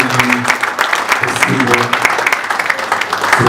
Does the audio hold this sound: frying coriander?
no